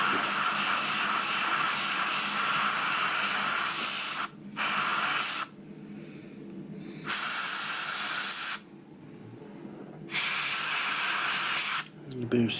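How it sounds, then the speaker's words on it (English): Bursts of spray paint hiss in several long passes with short pauses between, coating a 1/16 scale StuG III Ausf. G model tank kit through a template, close and loud. "A bit of sprayage."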